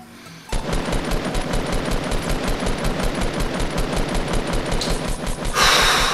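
Rapid automatic gunfire in a video game, a continuous rattling burst after a brief quiet start, loud and close, ending with a brighter noisy blast.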